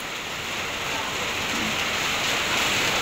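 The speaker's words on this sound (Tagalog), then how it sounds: "Ayaw po kalakas po ng ulan." Heavy rain pouring down near a creek, a dense, continuous hiss of downpour striking surfaces, loud and close, growing slightly stronger as it goes on.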